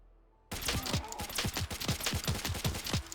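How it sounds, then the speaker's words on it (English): Rapid automatic gunfire in the video game Fallout 4, played with a mod list: about a dozen sharp, evenly spaced shots in a loud burst that starts abruptly after a brief quiet moment. "I hear gunfire."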